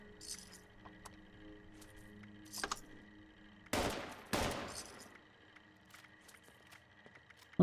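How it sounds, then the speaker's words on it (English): A few sharp gunshot bursts in Fallout 76, two loud cracks close together mid-clip amid otherwise quiet game ambience with faint clinks. "Oh, it's not shooting at me, that's the main thing."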